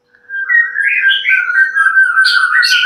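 A white-rumped shama (murai batu) sings loud and close, a continuous run of clear whistled phrases that rise and break into sharper squeaky notes toward the end.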